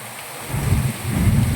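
Heavy monsoon rain in Moti Gop, Gujarat, with a dull low rumble of thunder: a constant wash of rain noise that thickens into a deeper, rougher roar partway through and keeps going to the end, with no voices.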